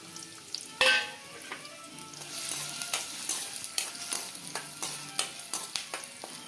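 Chopped onions sizzle and crackle in a little hot oil in a pan, with irregular pops and the scrape of stirring throughout.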